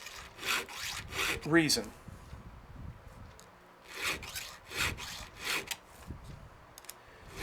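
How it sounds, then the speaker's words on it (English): A hand file sharpens the teeth of a chainsaw chain: a series of raspy push strokes, evenly paced and close, scraping metal with short gaps between them, while someone talks over part of it. "The file is taking metal off."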